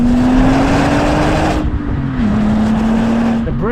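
An Audi S4 B5 engine pulls hard under acceleration, heard from inside the car: a loud, steady drone that climbs in pitch, dips briefly as a gear changes, then builds again, with no talk over it.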